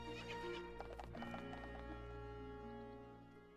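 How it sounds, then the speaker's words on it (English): Horse whinnying and hoof clip-clop sound effect from the Professor Layton vs Phoenix Wright video game, steady and close over a sustained musical background, with no talking. "This horse is certainly spirited."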